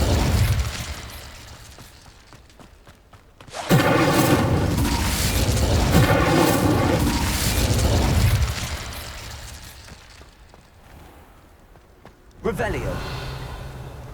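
Incendio fire spell cast in Hogwarts Legacy: a loud whooshing burst of flame erupts and roars for several seconds, fades, then a second fiery surge starts near the end, with a character's voice heard in between.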